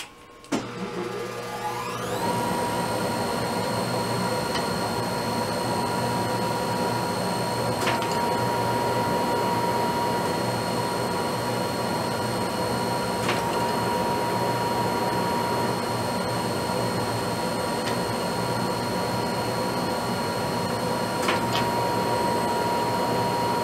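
A Monarch 10EE lathe with an electronic lead screw cuts a thread: the motor spins up, then a steady mechanical whine and hum runs throughout, with occasional faint clicks and no talking.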